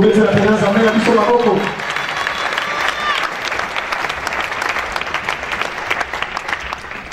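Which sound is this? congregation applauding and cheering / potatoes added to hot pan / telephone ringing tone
congregation applauding and cheering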